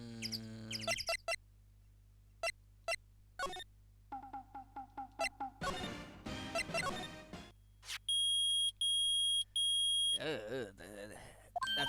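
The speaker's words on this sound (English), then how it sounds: "Nick, it's beeping. The metal detector has found something. Sure is loud enough about it." Loud electronic beeping from a metal detector in the Phoenix Wright: Ace Attorney game on Switch, a run of short repeated beeps and bursts of tones mixed with other game chimes and sound effects.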